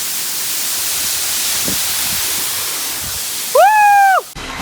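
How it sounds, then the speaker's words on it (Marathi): A large hidden waterfall roars in a loud, steady broadband rush outdoors, with a brief high whistling tone over it near the end. "बघा तुम्ही किती मोठा असा धबधबा"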